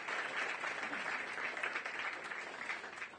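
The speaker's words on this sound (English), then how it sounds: "can we get a round of applause, please, for all the officials" Applause from a crowd at minor Gaelic games championship finals, fairly distant and soft, holds a steady dense clatter for a few seconds before starting to thin out.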